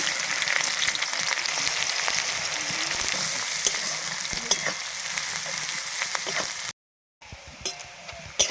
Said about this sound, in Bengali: এবার এই তেলেই দিয়ে দেব পেঁয়াজ বেরেস্তার জন্য